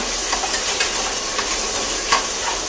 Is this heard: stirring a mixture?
yes